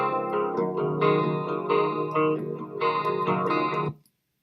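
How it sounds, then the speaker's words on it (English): A looped alternative rock and hip-hop guitar riff plays through chorus and distortion effects, chunky repeating chords in bursts with short gaps, clear and close, stopping abruptly after about four seconds. "Let's hear if it works with this other riff."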